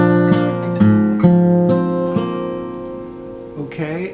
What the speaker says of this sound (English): Finger picking, we're going to pluck the 5th string, then the 4th string, then the 2nd and 3rd.